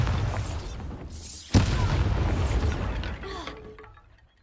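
A Bombarda explosion spell in the Hogwarts Legacy video game lands as one sharp boom midway, followed by a rumbling, crackling decay that fades out, with faint game ambience before it.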